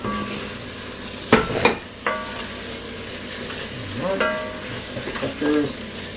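Sausages dropped into a gumbo pot set off a sizzle and fry with a few sharp clatters and stirring scrapes, loud bursts early then quieter crackling.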